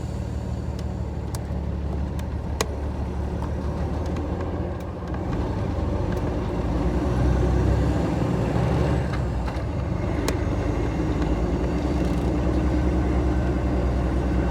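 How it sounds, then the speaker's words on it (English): An old truck with close to 1.4 million miles drives along with a steady low transmission growl and road drone. Faint clicks and rattles come through now and then. "you'll hear a lot of transmission growl coming out of it"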